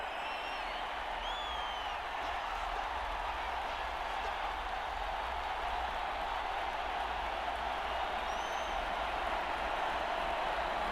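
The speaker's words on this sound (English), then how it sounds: "the crowd getting into it as we come up on a big 3rd down" Simulated stadium crowd in a college football video game, Auburn versus Houston at the Birmingham Bowl, a steady, even roar of cheering and noise that holds throughout without clear peaks.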